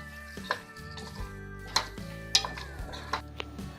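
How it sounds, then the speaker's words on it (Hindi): Quiet kitchen sounds of Singaporean rice ingredients with chilli sauce and a pinch of sugar being stirred and fried in a pan, with several sharp utensil clinks and scrapes over a faint sizzle. "शुगर ऐड करेंगे 1 पिंच। फ्राई करते हैं।"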